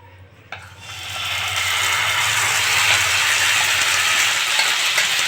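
Semolina tipped into hot ghee in a pan for halwa, a soft thump followed by a steady, bright sizzle that builds and holds close and loud, with no talk.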